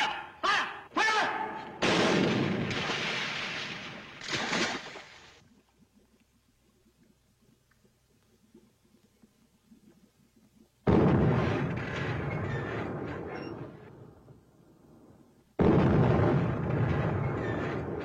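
Naval artillery guns fire in a 1943 war film: a rapid cluster of heavy booming blasts, then a quiet stretch, followed by two long loud roaring barrages, close and overwhelming.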